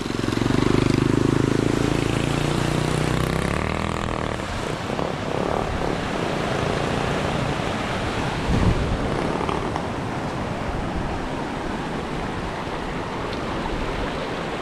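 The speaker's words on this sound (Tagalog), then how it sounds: "Lakas ang tubig ngayon ah." Strong rushing water flows through a flooded street on a rainy morning with a loud, continuous roaring wash, and a deep rumbling hum dominates the first few seconds.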